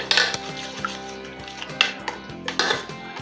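Tandoori chicken marinade with garlic paste and yogurt being mixed in a bowl, with a spoon knocking and clinking against the dish in irregular bursts close up.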